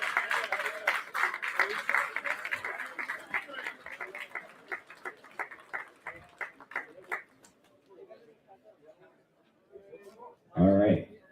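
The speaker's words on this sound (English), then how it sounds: "Give her a round of applause." Crowd applause and clapping at a live cannabis cup awards event, loud at first and then thinning into scattered claps, ending with a brief shout.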